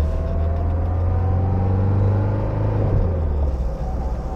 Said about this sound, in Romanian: n-are cum să nu-ți placă țăcănitul ăsta de tacheț și sunetul de pompă